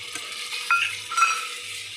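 Onion and ginger-garlic paste frying in a pan, with a soft steady sizzle, a few spoon scrapes and light clinks against the metal, close by and without any talk.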